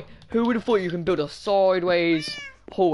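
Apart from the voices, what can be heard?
cat meowing in Minecraft video game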